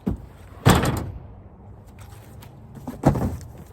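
A cardboard box holding a Stihl MSA 220 TC battery top-handle chainsaw is opened, with two loud close flap thumps and rustles a couple of seconds apart and quieter handling noise between them.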